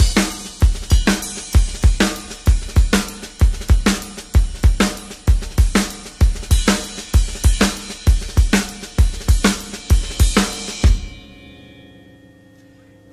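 Drum kit groove with soft snare ghost strokes between accented backbeats, now driven by a steady kick drum and ride-cymbal pattern, loud and close, stopping abruptly near the end and ringing out.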